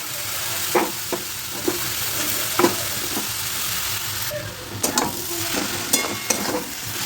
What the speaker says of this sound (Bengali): আলুর সাথে বেশ ভালো করে মিক্স করে নিতে হবে